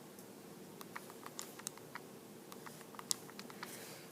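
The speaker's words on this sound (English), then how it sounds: "I'm just going to type a bunch of them in right now." Keys clatter on a computer keyboard as numeric values go in for a college algebra problem, a light, scattered run of soft clicks with a few sharper taps, close and fairly quiet over a low steady room hum.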